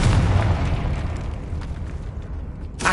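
Spell blasts from a wizard video game, with the Confringo fire spell going off as a dense, roaring burst that carries on without a break, then a fresh crack right at the end.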